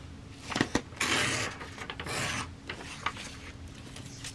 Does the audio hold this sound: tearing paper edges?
yes